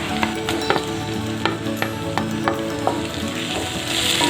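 Tomatoes hiss and sizzle in hot oil in a pan while cooking a Tamil anchovy fish gravy, a continuous crackle broken by sharp scraping clicks of a stirring spoon against the pan.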